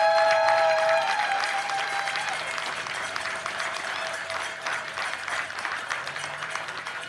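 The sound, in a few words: crowd applause at baseball championship ceremony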